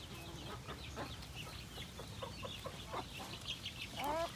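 Native free-range chickens on a farm clucking softly, scattered short clucks and chirps at a low level with one louder squawk near the end, no talk.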